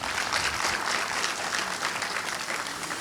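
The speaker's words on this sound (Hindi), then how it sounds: "ज़रा बहराइच के लोग एक बार ज़ोरदार तालियां बजाएं।" People in Bahraich give a hearty round of applause at a public event, a dense, close, steady clatter of many hands clapping without letup for several seconds.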